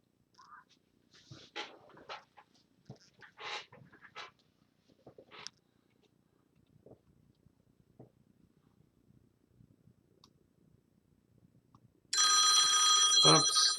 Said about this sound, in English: Oops, there's my phone.